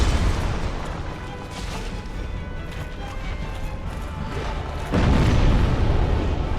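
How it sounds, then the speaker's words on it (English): A boom from an exploding enemy in Dark Souls Remastered, a single loud low burst near the end that lifts over a steady dark rumbling game ambience. "You explode for physical damage."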